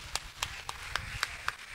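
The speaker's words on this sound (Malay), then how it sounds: "Bagi tepukan pada mereka" Applause at a school appreciation ceremony, heard as a steady, moderately quiet patter of clapping with distinct individual claps spaced roughly a quarter second apart.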